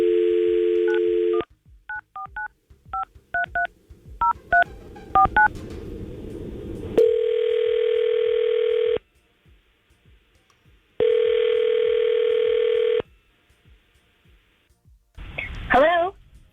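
Telephone keypad tones beep in a quick dialing sequence, followed by long repeated ringback tones with silent gaps as a radio show calls a listener named Kim, ending as the line picks up.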